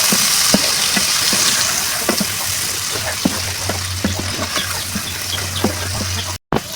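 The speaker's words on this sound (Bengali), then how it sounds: "দিয়ে ভালোভাবে মাছটাকে ভেজে নেব" Hilsa fish pieces frying in oil with turmeric, chili powder and salt, giving a steady close hiss and bubbling with a few sharp pops and spatters, ending in a brief cut-out.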